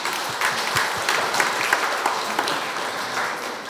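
Audience at a Siheung education forum on local education autonomy breaks into a short burst of dense, steady applause, close and filling the room without talk.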